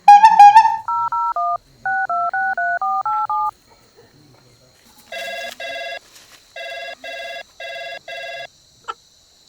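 Mobile phone keypad tones: a short rising beep, then a run of steady dialing beeps, a pause, and another loud sequence of evenly spaced DTMF tones, each clear and close against near silence.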